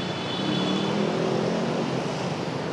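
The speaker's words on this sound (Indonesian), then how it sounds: "mohon maaf sekali anginnya begitu kencang begitu di tempat saya mengabarkan saat ini" Strong wind buffets a microphone outdoors, a loud, continuous roaring rumble filling the whole stretch with no clear pauses.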